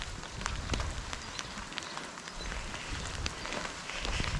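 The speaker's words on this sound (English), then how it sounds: "Just check the weather to see when this rain stops" Steady rain falls outdoors on a run along roads between Seascale and Bootle in Britain, a dense continuous patter with scattered sharper drops, fairly close and even in level throughout, with no voices.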